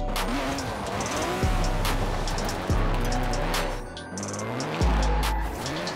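Chevrolet Silverado 1500 pickup drifting in Forza Horizon 4, a steady loud engine drone with tires squealing through long slides and gear changes dipping and surging the revs, no talk over it.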